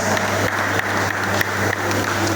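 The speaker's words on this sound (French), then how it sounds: "C'est sous nos acclamations, s'il vous plaît." An audience at an award ceremony applauds an honoree walking up to receive a merit diploma, dense continuous clapping with a few sharper claps standing out over a low steady hum.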